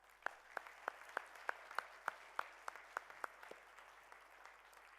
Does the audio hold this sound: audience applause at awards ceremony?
yes